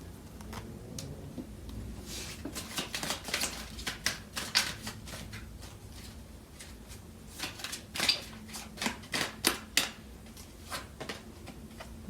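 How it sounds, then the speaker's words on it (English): Tarot cards shuffled and pulled from a deck, close and fairly quiet, with a steady run of crisp riffling snaps and taps, mostly alone with faint background hum. "I'm gonna pull out some cards from the other deck."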